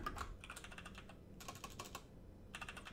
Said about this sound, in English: So I can just type in here